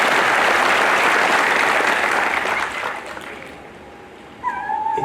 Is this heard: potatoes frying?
no